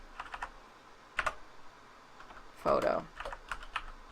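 Keys clack on a computer keyboard in short bursts of close taps, including a denser flurry near the middle, while someone speaks a word.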